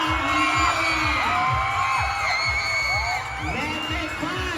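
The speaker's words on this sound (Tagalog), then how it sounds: "magpalakpakan na may kasamang hiyawan" A crowd at a mall event in Gateway Mall 2 whoops, yells and cheers loudly, with bangs and scattered claps under layered shouting voices throughout.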